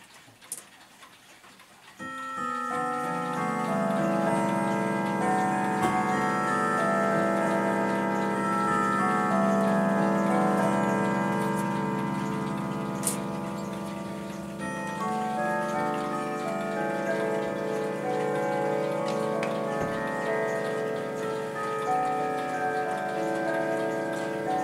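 A Howard Miller Raymour clock with a blue moon dial and weights ticks steadily under a sustained ringing chime tone that fills the room, close and fairly loud, with no voices.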